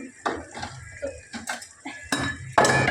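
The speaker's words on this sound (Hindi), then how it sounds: "2-4 बर्तन धो के अभी रख दूँगी जितने तक मन लगेगा।" Dishes and utensils being washed by hand: a run of irregular clinks, knocks and clatters up close, with short gaps between bursts and a louder scrape near the end.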